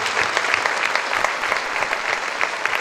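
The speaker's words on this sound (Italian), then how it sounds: "Facciamo un grosso applauso per la sicurezza, la polizia municipale" A large crowd applauds security staff and municipal police at a musical recital during a festival at the Sanctuary of the Madonna dell'Arco, dense continuous clapping that stays loud and even throughout.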